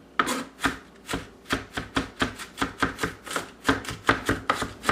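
A knife finely dicing ingredients for a Moscow apple salad on a cutting board, sharp rhythmic chops in a quick regular series, close and clear with no talking.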